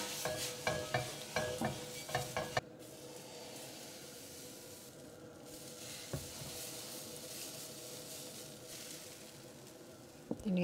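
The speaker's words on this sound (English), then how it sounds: "splash a bit of water and just wipe it with an onion, and hopefully this pan is ready for the dosas" Water hits a hot dosa pan with a sharp sizzle, then an onion is rubbed across the surface, several quick scraping strokes followed by a long, softer steady hiss and a final clatter.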